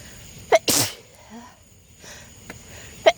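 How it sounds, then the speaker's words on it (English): A single sharp human sneeze bursts out near the mic, preceded by a short intake of breath, with a couple of small clicks and mouth sounds in an otherwise quiet room. "oh, I hear sneezing."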